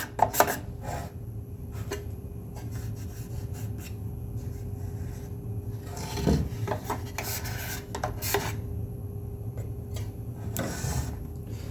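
Excess glue is scraped from the inside of a wooden spice rack with a rasping, rhythmic scrape, strokes repeating steadily up close with a few sharper, louder passes.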